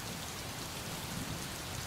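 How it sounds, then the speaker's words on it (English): Steady, dense rainfall from the adventure game Gemini Rue. The downpour is even and constant, with a faint low rumble beneath it and no voices. "Perpetual rain."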